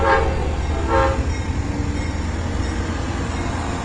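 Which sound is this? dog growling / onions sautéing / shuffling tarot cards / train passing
train passing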